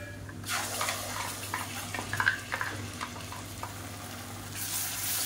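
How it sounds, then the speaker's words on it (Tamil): Chili powder and ground chutney paste sautéing in hot oil over a medium flame, a steady close sizzle with brief stirring scrapes in the middle, heard alone without talk. "நல்லா மீடியமான ஃப்ளேமில் வதக்கிக்கலாம்"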